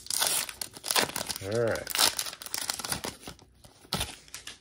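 Crinkly foil packs from a 2024 Topps Update baseball card blaster box are torn open up close, with repeated crumpling and ripping mixed with a person talking.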